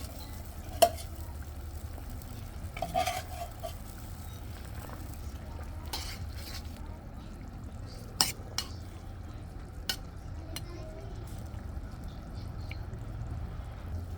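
Rohu fish pieces frying in hot oil in a pan as they are stirred, a steady low sizzle running throughout with a few scraping knocks of the spoon against the pan.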